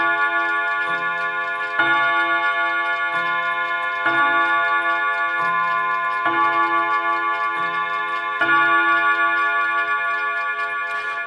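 A 1950s Mauthe mantel clock strikes its chime rods in a slow repeating melody, clear ringing tones sustaining and overlapping with each struck note, close and alone.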